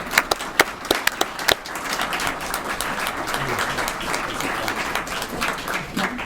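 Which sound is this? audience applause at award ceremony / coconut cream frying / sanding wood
audience applause at award ceremony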